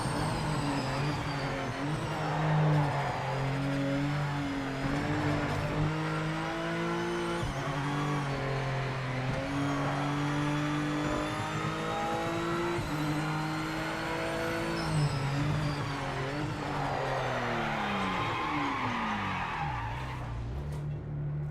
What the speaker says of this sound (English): there should be some more contrast between these engine sounds. This does not sound like the other BMWs at all.